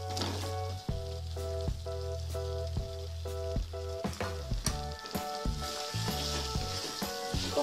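Potatoes tipped into a pan of tomato masala cooked down until the oil separates give a steady sizzling hiss, with background music playing over it throughout.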